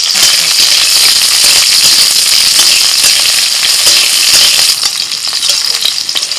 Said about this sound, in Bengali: ওর মধ্যে ক্যাপসিকাম দিয়ে দিচ্ছি।